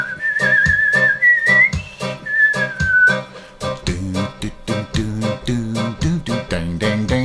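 A wavering, whistle-like theremin-style synth lead glides over a music track of punchy drums and chords, then drops out while the beat and stabs continue, loud and upfront.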